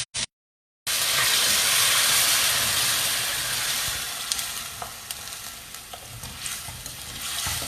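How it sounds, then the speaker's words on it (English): Loud, steady sizzling of food frying in a hot pan, a dense hiss that fills the clip after a brief silent start, easing slightly toward the end. "So if you see, it's nicely sizzling."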